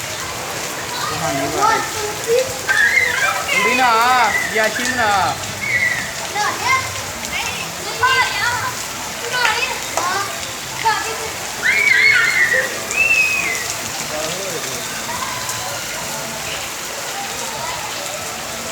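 Monsoon rain falls in Lahore with a continuous hiss and patter on surfaces, while children nearby chatter and laugh over it.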